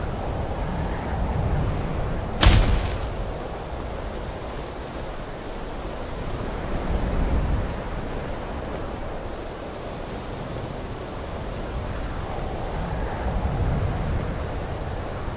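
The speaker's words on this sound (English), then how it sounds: "As you can see, it is really windy up here" Steady wind roaring high up on a bridge in Skyrim, a continuous broadband rush with gusts swelling and easing, plus one sharp brief crack early on, with no talk.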